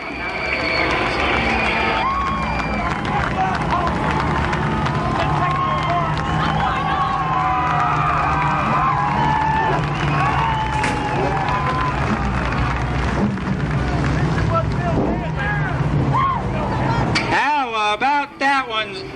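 Race fans at Columbus Motor Speedway cheer and applaud after a close race, a loud sustained roar of crowd noise, clapping and shouts filling the whole stretch before cutting off near the end.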